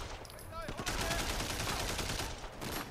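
Rapid, dense gunfire from Sleeping Dogs, a sustained burst of sharp shots packed tightly together under a constant loud din of game sound.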